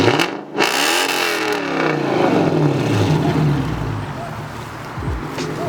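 A 1999 Lexus LS400 engine revs up loudly and holds a strong, rising roar before easing off near the end.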